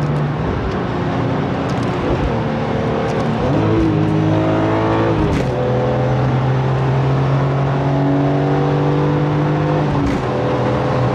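BMW E46 M3 with SMG gearbox downshifting, engine revs blipping up in sharp rising and falling harmonic sweeps between steady drone, loud and close throughout.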